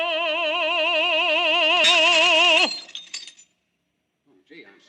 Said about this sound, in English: I busted a glass.